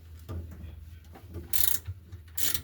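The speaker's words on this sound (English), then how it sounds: "And this little wrench is going to make it so much easier" A small wrench works loose the motor bolts on a 15-year-old GE washing machine, giving quiet ratcheting clicks in short bursts with a couple of brighter metallic scrapes near the end.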